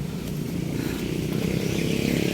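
A motorcycle on a highway, its engine a steady close buzzing drone that swells slightly as it passes over about two seconds, with no talk.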